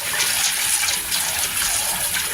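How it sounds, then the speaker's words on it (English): Water poured into a pan of field corn during rinsing, a steady close gushing rush of running water that holds level throughout with no pauses. "Now add more water again."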